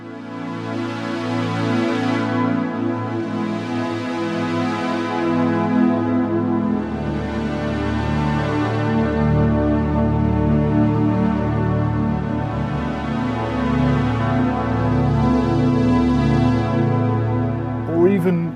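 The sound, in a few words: lush big synth pads on Korg Op Six FM synthesizer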